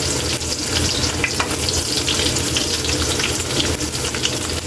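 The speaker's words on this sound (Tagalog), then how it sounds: "Gigisa lang natin yan." Loud, continuous close sizzling from sautéing in a pan for a milkfish (bangus) dish, a dense steady fry with occasional stirring, no talking.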